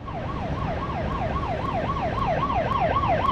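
A toy transforming robot police car plays a rapid electronic wailing siren, looping steadily and fairly loud for the whole stretch with no voices over it.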